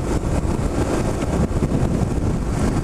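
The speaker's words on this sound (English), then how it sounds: "A little windy." Steady wind rushes past the rider on a KLR650 motorcycle on a clear-day trip toward the Grand Canyon, with broadband buffeting across the whole stretch, constant and fairly loud, with engine rumble underneath and no talking.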